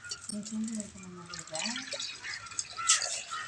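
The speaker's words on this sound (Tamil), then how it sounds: "சக்கரை பொங்கல் வைக்கிறதுக்கு தண்ணி ஊற்றுறோம்" Water splashes and trickles steadily into a pot for sweet pongal during Thai Pongal, a continuous pouring sound under faint background voices and clatter.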